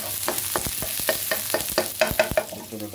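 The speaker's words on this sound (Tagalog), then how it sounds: "Magigisa na tayo ng bawang" Garlic sautés in a pan for a prawn and vegetable dish under a continuous sizzle. A quick run of sharp utensil taps and scrapes repeats roughly every quarter second, close and fairly loud, with no talking.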